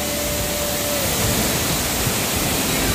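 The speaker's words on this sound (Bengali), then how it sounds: "একদম অনেক উঁচু থেকে জলটা পড়ছে" Changey waterfall near Kolakham, water plunging from a great height, makes a steady, dense roar that fills the whole clip at a constant level, with no voices.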